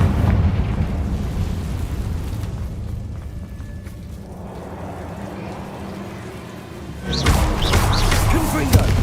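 A Confringo blasting spell explodes in Hogwarts Legacy, a loud boom with rumbling debris that fades over a few seconds, followed by a second sharp blast and crackling, with a voice heard near the end.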